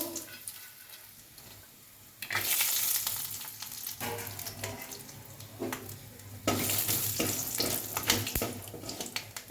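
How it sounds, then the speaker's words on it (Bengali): Peanuts fry in hot oil in a pan for khichuri, a soft sizzle that swells into louder crackling bursts with occasional stirring scrapes. "এবার বাদামগুলো ভেজে নেব।"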